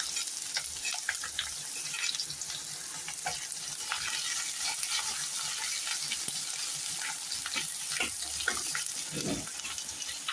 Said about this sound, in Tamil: இது நல்லா வதங்கின உடனே ஆனியனை கட் பண்ணி வச்சுருக்கோம் இல்லையா, அதை போட்டுடலாம்.